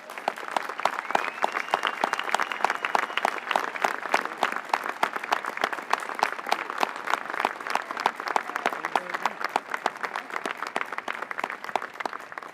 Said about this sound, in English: please stand and let's give these people a round of applause.